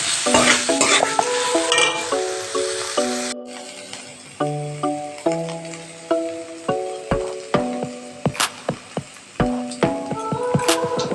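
Ridge gourd peel paste frying in a pan, stirred with a spatula in a series of rhythmic scraping strokes over a soft sizzle, with a gentle melody playing underneath.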